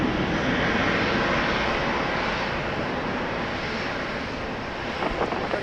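A Boeing 737-700 airliner landing at Dallas Love Field gives a loud, steady, broad engine roar that holds evenly and eases slightly near the end, with no voices.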